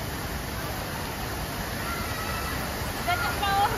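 Steady broadband splashing and rushing of a water fountain in KLCC park, constant and fairly close, with faint background voices.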